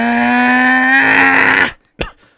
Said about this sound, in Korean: 호넷 250의 배기음이 이런 소리가 납니다.